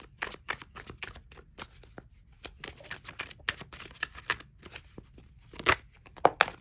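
Oracle cards shuffled by hand in a quiet room, a run of crisp riffling flicks and snaps in uneven bursts, close and clear, with a few sharper slaps near the end.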